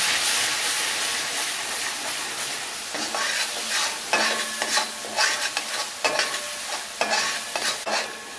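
Turmeric, red chili and coriander powders are stirred into a sizzling masala for green chickpea curry, with a constant frying hiss and repeated scraping strokes of a spoon against the pan.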